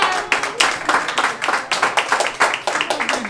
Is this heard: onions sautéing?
no